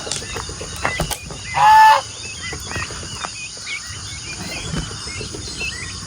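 A loud, nasal honking call from a domestic duck rings out once nearby, amid softer bird chatter and an outdoor farmyard background.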